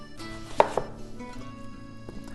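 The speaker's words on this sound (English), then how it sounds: "So first I need to cut onions." A knife chopping white onions on a cutting board, a couple of sharp close thuds followed by quieter scattered cuts, alone with no voices.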